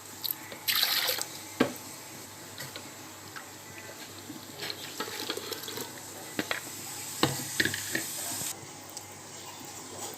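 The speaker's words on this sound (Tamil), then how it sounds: "கொஞ்சம் தண்ணி அலசி ஊற்றிக்கோங்க." Water poured and swirled to rinse pomegranate juice through a strainer in a home kitchen, with short splashes, trickles and drips coming in uneven bursts, moderately close, and a quiet voice now and then.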